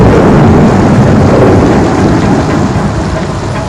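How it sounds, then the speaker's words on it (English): Heavy rain pours steadily with rumbling thunder in an animated story about crossing the overflowing Yamuna river; a dense, loud, continuous roar with no talk. "It was raining"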